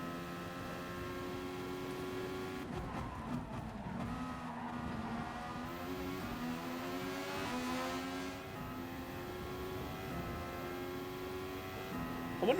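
Race car engine in Gran Turismo Sport, likened to a Super Formula car, revving hard with stacked rising and falling harmonics as it accelerates and shifts, steady and loud throughout with no talk.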